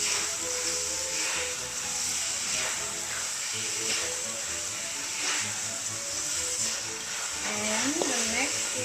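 Carrots stir-fried in a pan for nasi goreng give a steady hiss and sizzle with occasional spatula scrapes, moderately quiet, while a person talks over it.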